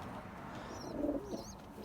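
Fantail pigeons coo softly in a loft, a low brief murmur with faint chirps from young birds, distant and quiet against background hum.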